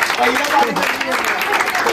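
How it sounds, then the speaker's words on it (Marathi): An audience at a Children's Day stage show bursts into loud, dense applause, clapping steadily for two seconds with excited voices mixed in. "मस्त मस्त मस्त जोरदार टाळ्या."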